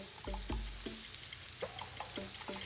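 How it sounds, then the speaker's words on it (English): Satay skewers frying in their own melting fat, a quiet steady sizzle with sharp intermittent clicks and pops, close and alone with no talk. "you can see how the melting fat makes the meat sizzle"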